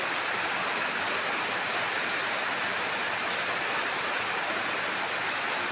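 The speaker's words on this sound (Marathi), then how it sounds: "निव्वळ पाऊसचा रात्रपासून घडघडण धडधडण चालू आहे" Heavy rain that has been pounding down since the night, a dense and steady hiss of falling water that holds evenly throughout with no voices.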